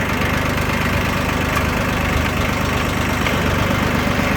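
The diesel engine of a Yanmar YM1610D mini tractor runs steadily up close, a loud, even chugging idle with a slight knocking rhythm and no voices over it.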